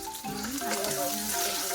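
Oil sizzling in a pan as vegetables for Filipino pinakbet begin to sauté, a steady bright hiss running throughout with some faint tonal hum underneath.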